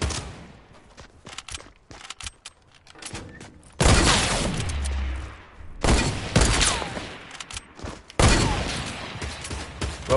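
Assault rifle fire in the Fortnite video game rings out in dense, rapid bursts with sharp cracks and scattered impact thuds, loud and close, separated by brief quieter gaps.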